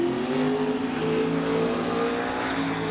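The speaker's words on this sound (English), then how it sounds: "Here the turbo starting to spool up" Turbocharged drag race car at a drag strip, a loud steady engine drone with harmonic whine building as the turbo spools up, close and continuous with no voices.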